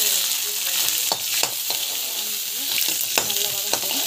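Mustard seeds and lentils sauté in a hot pan with oil, giving a steady bright sizzle broken by frequent scraping stirs and small pops, close and fairly loud, with no voices.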